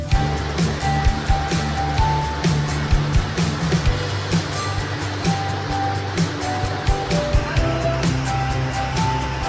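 A waterfall near the Pokharbav Siddhivinayak temple gives a steady, dense wash of rushing water that holds an even level throughout, with no talk over it.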